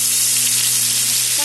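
Two bay leaves and whole cumin seeds hit hot oil, giving a brief, loud, dense sizzle with a steady hiss that carries straight through.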